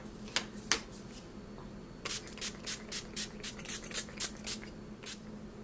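Quiet, short hissing spritzes from a L'Oreal Infallible Pro Spray and Set makeup setting spray bottle, two at first, then a quick run of about a dozen pumps, close by.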